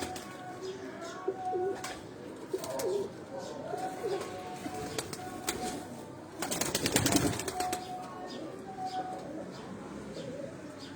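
Sialkoti breed pigeons coo repeatedly at a breeder's loft in Pindi, gentle rolling calls near and far, with a brief burst of wing flapping midway and someone talking over them.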